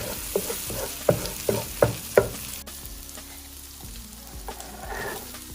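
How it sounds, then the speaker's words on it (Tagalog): Garlic sautés in olive oil in a wok, with a steady sizzle under several sharp clacks as a utensil strikes and stirs against the pan, easing into a quieter hiss toward the end. "On the same wok, let's pour in again our olive oil and saute our garlic."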